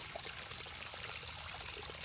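Water pours and trickles steadily while aquarium sand is rinsed for a saltwater tank, a faint continuous splashing stream with no talking.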